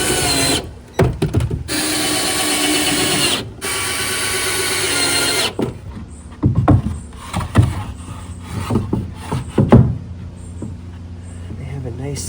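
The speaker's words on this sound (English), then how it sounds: "So I'm just gonna go and screw these 3 in." A power driver sets screws into the wood of a barrel sauna during backyard assembly, with a sustained whirring burst, short stop-start pulses and clunks, then softer handling knocks close by.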